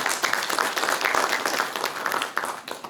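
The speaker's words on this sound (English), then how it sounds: "can you please give him another round of applause?" Audience applause at a symposium hall, a continuous dense patter of many hands clapping at moderate loudness, with no voices over it.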